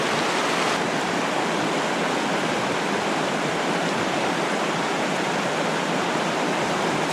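Steady rushing flow of Fall Creek, a broadband wash of moving water with no pauses, loud and close throughout.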